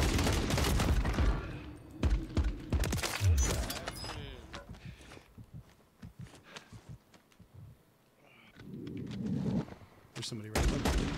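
Desert Eagle pistol fire in a shooter video game, with scattered sharp shots and bursts of gunfire mixed with other weapons and footsteps, interrupted by a player talking.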